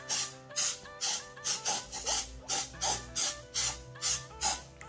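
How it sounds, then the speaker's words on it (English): Aerosol release agent sprayed onto a silicone cut-block mold for resin casting, heard as about eleven short, close hissing bursts in a steady, even rhythm, with no talking. "So for this, I like aerosols. I don't like brushing, so we're just gonna give this a little bit of a spray."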